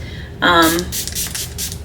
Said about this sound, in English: So I'm gonna do the Dalpa spray.